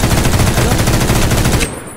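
Automatic gunfire in a Minecraft horror mod game rattles in a rapid, loud, close burst of evenly spaced shots lasting over a second and a half, then cuts off abruptly.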